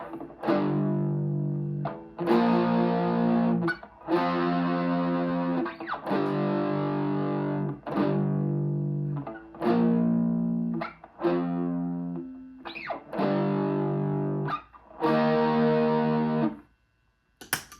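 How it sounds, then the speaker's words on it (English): A heavily distorted electric guitar plays a sequence of sustained chords from a song, each ringing out for about two seconds before the next, then stops. "play that with distortion so it sounds like the record"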